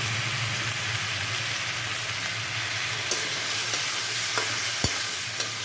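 Prawn masala for chingri kalia, seasoned with salt and turmeric, sautéed and stirred in a pan, giving a steady close sizzle with scraping spoon strokes and a few sharp clicks against the pan, no voices.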